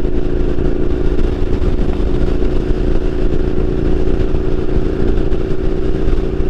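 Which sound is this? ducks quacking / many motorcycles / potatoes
many motorcycles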